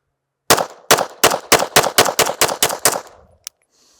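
Ten pistol shots in a drill that begins at a measured pace and then speeds up, sharp and loud, followed by a faint click after the string ends.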